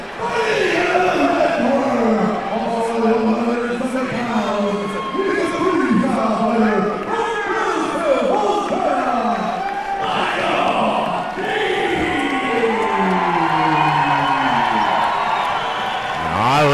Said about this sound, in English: Crowd is into it.